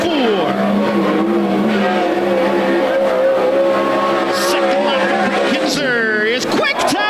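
World of Outlaws sprint cars roar around Willamette Speedway, a loud, steady engine drone under continuous announcer commentary, with a sharp rising whine near the end as a car passes close.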